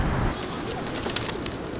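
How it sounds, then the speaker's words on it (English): Pigeons coo and flutter nearby outdoors, low soft cooing mixed with faint chirps over a steady background hum, close and continuous for a brief moment. "There's a lot of birds here."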